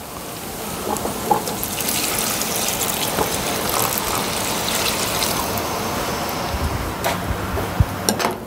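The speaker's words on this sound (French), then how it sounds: "Nous allons déglacer à l'eau tempérée pour un meilleur échange." Tempered water poured into a hot rondeau pan to deglaze, a steady broadband gush and sizzle running throughout at moderate loudness, with a few brief clinks near the end.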